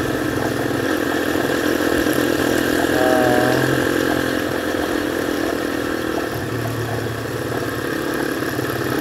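Modified Honda C70 motorcycle engine idling steadily nearby on a group ride, a continuous loud mid-pitched running drone with slight rises and dips in revs and no talk over it.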